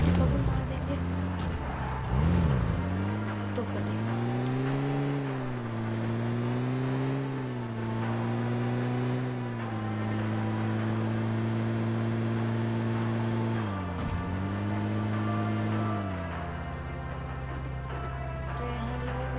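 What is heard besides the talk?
vehicle driving in video game PUBG Mobile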